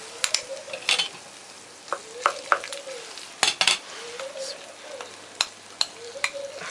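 Eggplant being stirred as it fries in a pan for a Korean miso soup, with a steady sizzle under repeated scraping and clinking of a utensil against the pan in irregular bursts.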